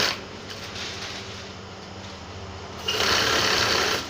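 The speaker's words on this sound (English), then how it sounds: "Okay, so I'm going to sew a 1/4 inch first." A sewing machine runs a quarter-inch seam down a placket flap on a senator top, giving a steady close mechanical whir that grows louder and brighter toward the end.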